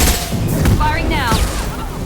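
Gunfire in the video game Mass Effect 2, a dense burst of loud booming shots and impacts over about two seconds, mixed with voices and combat effects.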